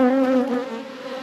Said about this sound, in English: look at them bringing that honey in